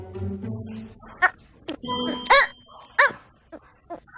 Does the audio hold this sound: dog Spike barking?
yes